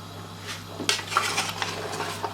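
A spoon clinks and scrapes against a cooking pot while roasted ground cumin and coriander are stirred in for a mutton makhni curry, with irregular metallic taps over a steady low hum and no talking.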